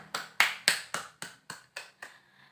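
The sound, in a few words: class applause for group presentation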